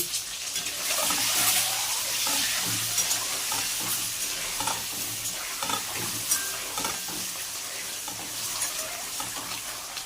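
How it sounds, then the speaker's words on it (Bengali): Eggs fry in a pan with salt and turmeric, a loud, close sizzle and crackle running throughout with scraping stirring strokes. "ডিমটাকে ভেজে তুলে নেব"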